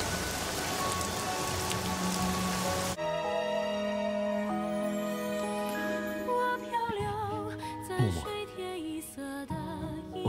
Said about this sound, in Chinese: 这么大雨还站在这儿